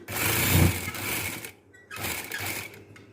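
A sewing machine runs in two close, loud bursts of rapid stitching on cloth patchwork, separated by a brief pause.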